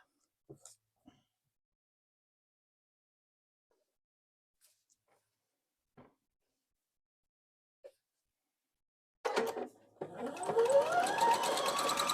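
A sewing machine stitches a table runner. A few faint taps and handling clicks come first, then the motor starts and whirs steadily up to speed, close by, for the last few seconds.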